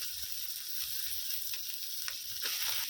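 Cauliflower and other vegetables for a veg momo filling sizzle in a pan with a steady close hiss, joined by a few light stirring scrapes toward the end.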